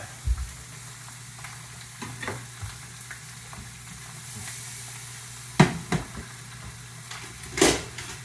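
Shallots frying in a pan give a steady low sizzle, with a few sharp utensil clinks and scrapes close by, no talking.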